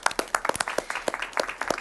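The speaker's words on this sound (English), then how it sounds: "So if everyone would mind giving them a big round of applause." Audience clapping at a school board of education meeting, a moderate round of individual hand claps at close to mid distance, sharp and irregular, with no talking during it.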